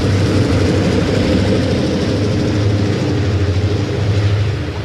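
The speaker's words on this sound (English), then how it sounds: "Versus a passenger with a GP9 heading west through West End" A steady, loud, low diesel rumble from an Erie Lackawanna GP9 locomotive hauling a westbound passenger train through West End Junction, droning continuously and easing slightly at the end.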